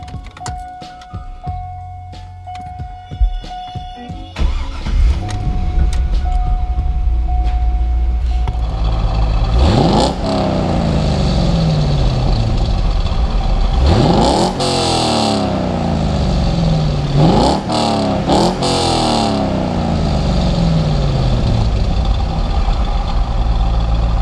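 A Chevrolet Corvette C5 Z06 set up for touge driving cranks and fires into a loud idle, then is revved hard several times, each rise and fall of the engine clear and close, with no talking.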